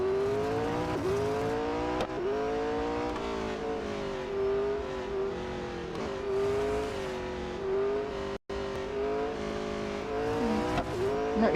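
McLaren 600LT in Real Racing 3 racing with a steady, high engine drone whose pitch rises and falls through gear changes, loud and continuous, with one brief dropout of sound near the end.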